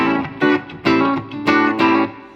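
Electric guitar played through a Line 6 Spider V mk2 amp with a Lux Spring reverb, four strummed chords ringing out in steady rhythm, each with a bright, slightly distorted attack and a short springy tail.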